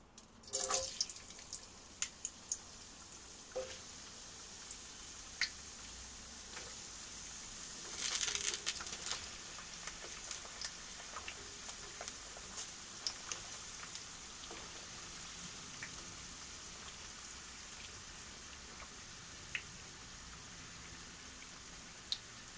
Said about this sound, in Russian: Так, у нас масло раскалилось. Начинаем мы закидывать уже картошку.